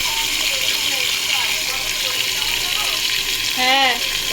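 Tomato, green chili and potatoes frying in hot oil in a pan, a steady bright sizzle with light stirring, and a voice briefly sounding near the end.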